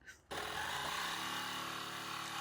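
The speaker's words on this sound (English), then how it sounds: "Jigsaw, now this is the first time I've used a jigsaw." A jigsaw starts abruptly and buzzes steadily through a 1x8 pine board, a close, sustained rattling whine after a brief quiet lead-in.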